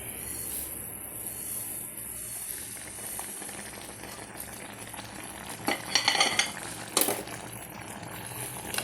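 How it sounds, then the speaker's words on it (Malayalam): Semolina (rava) is poured into a sizzling pan while making upma, giving a soft continuous hiss with a few clinks and scrapes of a utensil midway. "ഇതിലേക്ക് റവ ഇട്ടുകൊടുക്കും"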